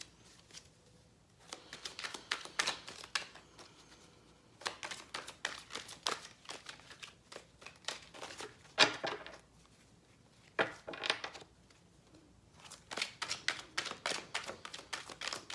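Tarot cards from a Herbal Tarot deck shuffled and flipped over in repeated bursts of quick, crisp papery clicking and riffling, separated by short quiet pauses, close to the listener with no talking.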